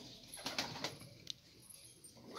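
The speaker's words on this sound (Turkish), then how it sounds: "Oyun kuşudur arkadaşlar. Süs kuşu değildir." A tumbler pigeon kept as a flying bird coos softly a few times, faint and fairly close, with light chirps and rustling around it and no talking.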